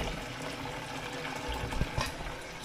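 Liquid being poured into a pot, a steady close splashing and trickling stream with a couple of brief knocks near the end, heard on its own without voices.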